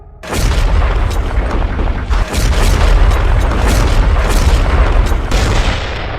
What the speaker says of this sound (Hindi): 15 सेकंड में 3 गोले बरसाने वाली बोफोर्स गजब की एक्यूरेसी से दुश्मन के खेमे में कोहराम मचा देती है।